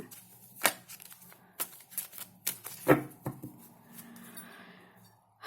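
Oracle cards being riffled and shuffled by hand, a run of quick papery flutters and soft taps, close and fairly quiet, with no voices.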